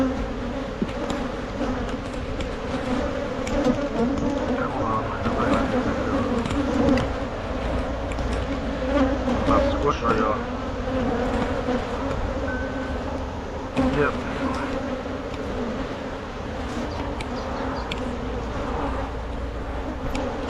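Honey bees swarm around an open hive during a summer honey harvest, a dense, steady droning buzz that fills the whole stretch at close range, with faint handling noises now and then.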